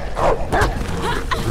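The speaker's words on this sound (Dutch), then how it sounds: "Oh, het zijn meerdere honden." Several dogs in the video game Beyond Two Souls barking and yipping in quick bursts, loud and close, with whimpering sounds between them.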